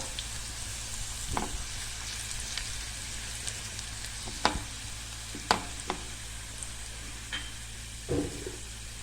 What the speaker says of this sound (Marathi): अर्धा चमचा हिंग घालून आपण त्याला चांगलं परतून घेऊया